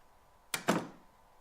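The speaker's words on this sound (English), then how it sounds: "Let's close this door." A door in the video game Anatomy pulls shut with two quick, close thuds about a fifth of a second apart, the second heavier and trailing off, set against near silence.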